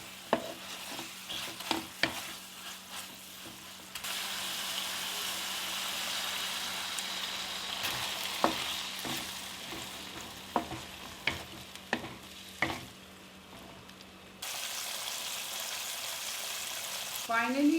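Elephant apple pickle cooks in a pan, with a steady frying sizzle and intermittent scraping clinks of a spoon stirring against the pan, the hiss shifting in loudness as the mixture is worked.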